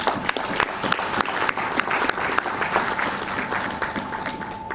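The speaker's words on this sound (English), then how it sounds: "I think it deserves a round of applause" An audience at a business magazine launch claps in steady applause, with sharp individual claps standing out over the general patter at moderate volume.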